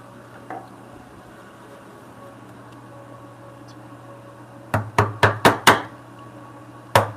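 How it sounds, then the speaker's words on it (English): A small chisel is struck into a wood knot, giving a quick cluster of five sharp, close knocks, with a single earlier tap and one more strike at the end, all over a low steady hum. "I am going to take a small chisel and go right into that knot."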